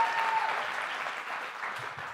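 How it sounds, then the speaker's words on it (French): Steady audience applause at a business founders' evening in Argenteuil, dense overlapping clapping from a crowd, loud at first and then tapering slightly over two seconds. "On applaudit Laurie."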